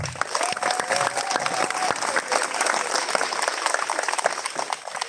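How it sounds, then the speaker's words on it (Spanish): Crowd at a community Christmas event applauding the organizers, dense, lively clapping from many people close by, with scattered cheers and a brief whistle, sustained at strong volume for about five seconds. "un fuerte aplauso para los organizadores."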